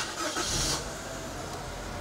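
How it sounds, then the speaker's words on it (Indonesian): A 2015 Daihatsu Sirion facelift hatchback engine starting up close: a brief cranking surge followed by a steady, even idle hum, with no talking. "Saya akan nyalakan mesinnya."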